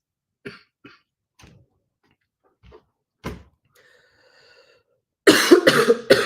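A few scattered, quiet knocks and a faint cough, then a loud close-up burst of coughing at the end.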